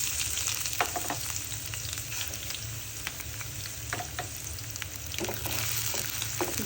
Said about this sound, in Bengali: পেঁয়াজগুলো এখন ভালো করে ভেজে নিব।